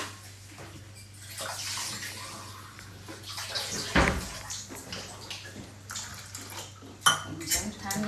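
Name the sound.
water being poured to mix into appam batter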